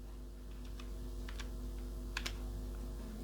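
Keys tapped on a computer keyboard, a handful of quick, light clicks spaced irregularly over a steady low hum, fairly faint and with no talking.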